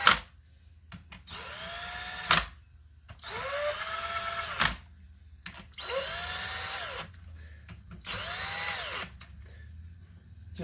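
Power drill driving and snugging a bolt while building a front-wheel-drive manual transmission BMW E21, four separate whirring bursts of rising then falling pitch, close and fairly loud, with short pauses between them.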